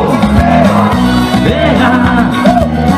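A crowd at an emigrant dance ball in Arsenal São Francisco yells together in call-and-response with a singer, loud and close over driving band music.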